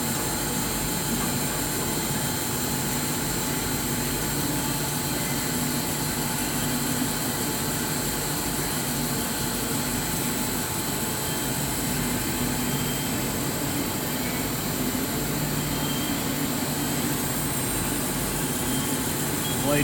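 A HydMech S20P band saw running its cutting cycle as the head lowers, a steady loud mechanical hum and whine with a constant tone throughout.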